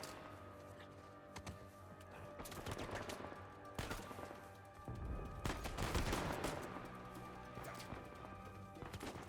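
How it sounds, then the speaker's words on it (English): Gunfire in Uncharted 4: A Thief's End arrives as scattered shots and short volleys over a busy, rumbling game soundscape. A few sharp cracks stand out, and a heavier burst of fire swells midway. "Is there someone here shooting at me?"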